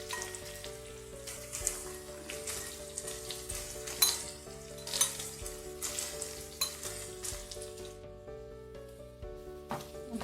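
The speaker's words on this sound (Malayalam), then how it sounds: "അല്പം ഒന്ന് നന്നായിട്ടൊന്ന് ഇളക്കി കൊടുക്കാം" A sizzling cauliflower gravy is stirred in a pan and crackles steadily, with soft scrapes and clinks from the spoon. Background music runs underneath and no one speaks.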